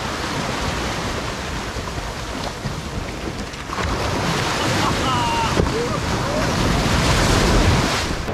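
Sea surf at a Goa beach rolls in steadily with a broad, continuous wash that swells louder after a few seconds, backed by a constant roar and gusts of wind buffeting the microphone.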